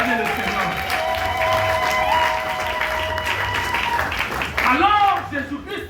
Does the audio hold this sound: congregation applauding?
yes